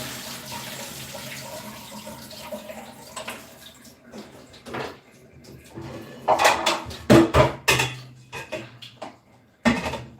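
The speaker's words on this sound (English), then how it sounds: "So I put it like that in my colander, and the water is going to just drain." Water drains from cooled rice tipped into a colander while cooking Cameroonian party jollof rice, a soft steady trickle that swells into louder splashing bursts near the end.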